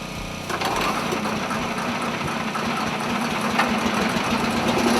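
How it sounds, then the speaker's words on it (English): A grinder shredding pulled-apart straw bales for an earth plaster mix starts up after a brief pause, then runs as a loud, steady mechanical drone with a rough, churning texture, with no voices. "grinding them through the grinder so that we can put it in the earth plaster mix"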